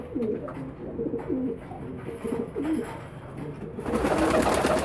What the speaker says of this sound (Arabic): أربع زغاليل زاجل للبيع في دمياط